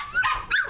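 A three-week-old Sheepadoodle puppy gives two short, high yips close by, the second a little sharper, with no talking over them.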